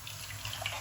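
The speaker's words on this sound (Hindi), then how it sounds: "अब इसके अंदर मैं थोड़ा सा पानी डालूंगी।" Water poured into a cooking pot while making dhaba-style dum aloo masala, a brief steady splashing trickle close by with no talk.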